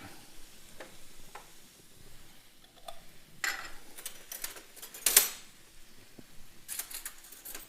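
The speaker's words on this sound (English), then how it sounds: "And then you saute it." Food sautéing in a pan with lemon and olive oil during a heart-healthy cooking demonstration, a soft steady sizzle with occasional louder scrapes and clatters, no talk.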